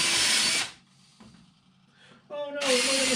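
A power drill countersinking holes in a wooden door being built, two loud whirring bursts at the start and end with a quieter mechanical pause between them.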